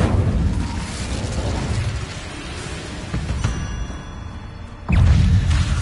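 A Confringo spell explodes in the wizarding game Hogwarts Legacy, sharp bursts and booms over a rumbling combat background, the loudest blast near the end.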